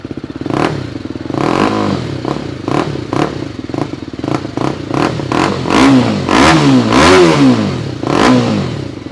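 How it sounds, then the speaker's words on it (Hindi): A modified BMW G310RR motorcycle fitted with a full Akrapovic carbon exhaust system and imported bend pipe revs repeatedly up close, loud throttle blips rising and falling with crackling pops between them, and no voices. "Full exhaust system for एक्रोपॉबिक R1M, देख सकते हो ये लगा रखा है फुल्ली कार्बन। इसका साउंड मैं आपको सुना देता हूँ"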